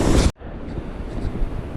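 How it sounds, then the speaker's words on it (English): Raging waterfall on a creek beneath a footbridge in the Desolation Wilderness above 7,000 feet: a steady, dense roar of rushing water with wind buffeting the microphone, close and loud throughout, with a brief dropout near the start. "That's raging, that waterfall."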